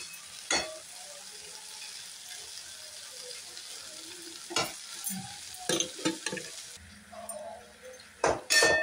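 Masala for shahi paneer fries in a pan under a low sizzle, broken by sharp scraping bursts as a spoon stirs it now and then.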